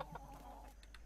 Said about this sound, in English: Yay, and we have a yellow chicken.